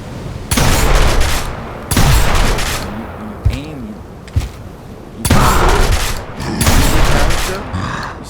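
A Gears of War shotgun fires in four loud, close blasts spaced a second or two apart, each a heavy booming burst with a short decaying tail, separated by brief footsteps and game noise.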